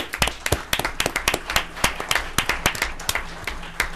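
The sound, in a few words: meeting audience applauding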